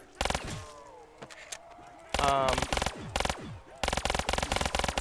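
Rapid automatic fire from an RK5 in a shooting video game, coming in loud, dense bursts separated by brief gaps, with single shots and game effects in between.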